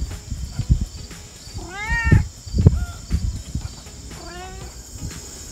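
A cat meows several times outdoors in a food forest beside a greenhouse, with drawn-out rising calls close by over light rustling and a steady insect hum.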